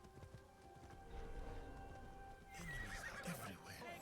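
Horse in the Assassin's Creed Japan setting whinnies loudly while its hooves clop steadily, the neigh rising sharply near the end of the short burst, with no talk over it.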